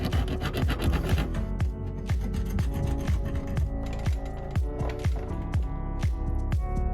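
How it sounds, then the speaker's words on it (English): Wooden desk pieces being hand-sanded, with steady, evenly spaced rasping strokes repeating close by and no talking. "we're gonna have to sand each of these pieces"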